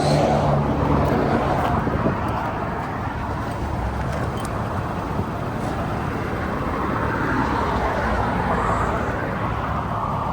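A Mercedes E350 pulls away, its engine and tyre noise a steady, moderate rumble over about ten seconds that stays fairly constant and mixes with general road traffic, with no talk heard.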